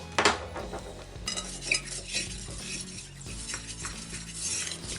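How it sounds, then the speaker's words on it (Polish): A cut garlic clove is rubbed across an ovenproof baking dish to prepare a potato gratin, giving close, steady scraping and rubbing with light clinks of ceramic throughout, and no talking. "Naczynie żaroodporne musimy wysmarować ząbkiem czosnku."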